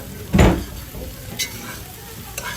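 Scrambled egg goes into Guyanese fried rice in a pot, with one sharp scrape and clatter of stirring followed by a softer sizzle and two faint metallic taps.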